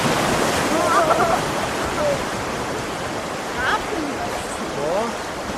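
The Dunajec river's rapids rush loudly and continuously in the open air, a broad wash of churning water with people's voices calling out over it.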